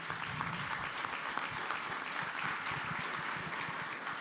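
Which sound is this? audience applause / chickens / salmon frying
audience applause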